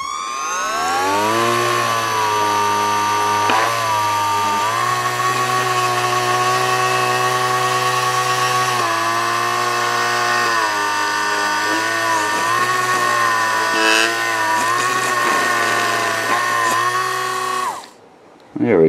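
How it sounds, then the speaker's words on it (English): A power drill runs with its bit turning through a piece of wood during a colonial-style build, a loud steady whine that dips and shifts in pitch as it bites, then cuts off near the end. "Drill bit's all clean by just running it through some wood."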